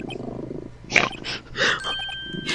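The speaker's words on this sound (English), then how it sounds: "he's purring so loud into the fucking mic" A cat purring loudly right against a microphone, with rough, rumbling bursts that swell and fade in a slow breathing rhythm, very close and uneven in loudness.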